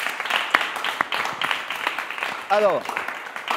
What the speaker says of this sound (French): Allez, ça s'acclame.